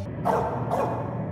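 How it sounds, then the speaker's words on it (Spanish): A quiet dog bark from Crash Bandicoot, close to the bark in the original Crash 1 Naughty Dog logo: two soft, muffled barks about half a second apart, low in level over a steady background hum. "podremos escuchar el ladrido de un perro con un volumen muy bajo"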